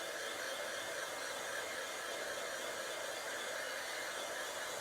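An embossing heat tool blowing hot air onto a handmade card, a steady, close whirring hiss that holds unchanged throughout with no talking.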